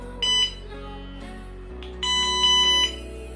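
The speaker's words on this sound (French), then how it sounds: "Plusieurs bips et la charge se lance" A SkyRC B6 Nano battery charger gives two clear electronic beeps, a short one and then a longer tone, as charging of a drained battery begins in a quiet room.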